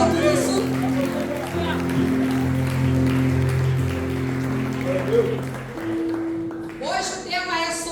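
A church congregation claps steadily through a service, the applause running under sustained keyboard chords and voices.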